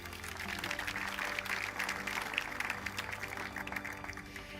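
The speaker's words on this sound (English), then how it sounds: "Please join me in giving them another round of applause." Sustained audience applause follows a piano performance at an awards ceremony at the Founders Memorial in Abu Dhabi, a dense, steady wash of clapping from a large crowd that holds an even level throughout.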